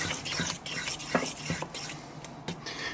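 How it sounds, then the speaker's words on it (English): A spoon stirs potato pancake batter in a bowl, making repeated soft scraping and clinking strokes with an uneven rhythm, close and moderately quiet. "Stir this together, and here we have our batter."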